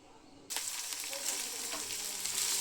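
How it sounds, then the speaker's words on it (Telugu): Fresh coriander leaves drop into hot oil in a pan and start a sudden, steady sizzle that stays close and even for a couple of seconds, with light crackles through it. "ఇలా కొత్తిమీర వేసుకొని ఫ్రై చేసుకోవాలి."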